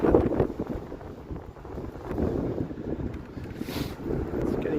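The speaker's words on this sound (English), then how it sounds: "A bit blowy, snowy out here." Gusty wind blows outdoors on a bitterly cold, snowy evening in Toronto, a steady broadband roar with rising and falling buffets rumbling across the microphone throughout.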